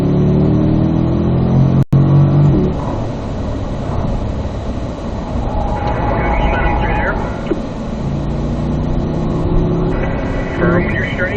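A Corvette engine pulls hard on a racetrack with a sustained drone as the throttle opens, under an instructor's continuous talk. A sharp click sounds near the start.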